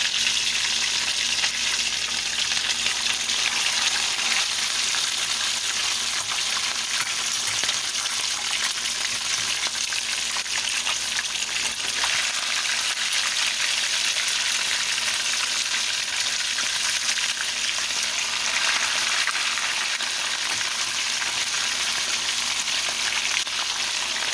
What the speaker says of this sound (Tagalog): prito tayo ng isda